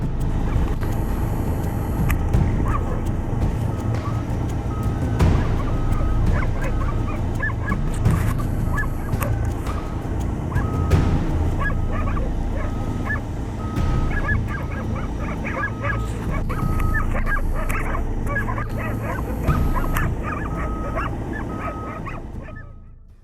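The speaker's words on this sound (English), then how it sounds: "Everyone thinks it's a wolverine fending off a dog attack." A dog attacking a wolverine, with the dog barking and whimpering through a continuous, loud scuffle that runs steadily throughout, close and busy, with no talking.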